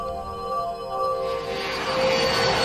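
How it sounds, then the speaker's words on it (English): A Soviet fighter interceptor jet on a 1968 test flight over Riga, Latvia, a loud continuous engine roar with steady tonal whine, swelling slightly toward the end. "a Soviet propaganda film crew documented a test flight of a fighter interceptor jet"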